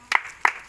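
A few children clap during a general knowledge quiz in an Odisha classroom, two short bursts of close hand claps with a quiet pause between.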